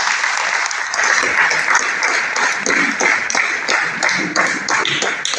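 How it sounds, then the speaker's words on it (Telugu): Loud, close applause from an audience at a business seminar as leaders are called up on stage, a steady flurry of overlapping claps lasting several seconds. "Big claps sir."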